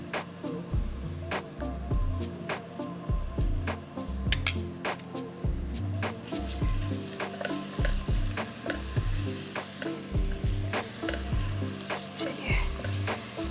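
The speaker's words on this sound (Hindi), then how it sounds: "उसमें हम डाल देंगे अदरक लहसुन का पेस्ट" Onions that have turned golden sizzle in a pan as ginger garlic paste goes in, with steady frying hiss, repeated spoon stirring scrapes and occasional clinks against the pan, close and moderately loud with no talking.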